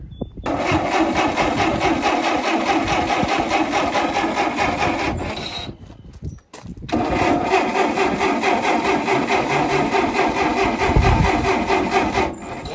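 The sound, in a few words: old Oliver tractor engine cranking but not starting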